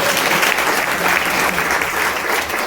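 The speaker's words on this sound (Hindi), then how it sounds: "ताली बजा के तारीफ करो।" A church congregation at a Sunday sermon breaks into loud, dense clapping in praise, a steady wall of applause filling the room from start to finish.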